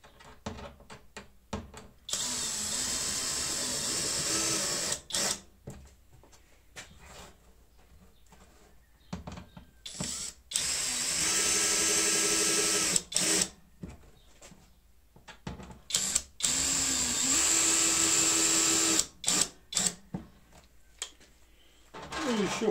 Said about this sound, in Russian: Ну и все это дело мы прикручиваем.